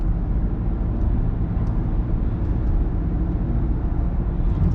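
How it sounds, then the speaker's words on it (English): Steady low road and engine drone inside the cabin of a VW Golf 7 1.2 TSI while driving, a constant broadband rumble with no distinct events and no talking. "The noise inside is a little bit loud for me compared to other cars."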